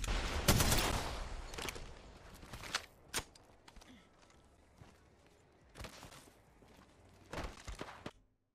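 Sharp gunshots from the video game Apex Legends crack in scattered bursts, some loud and close, others fainter, with quiet gaps between volleys.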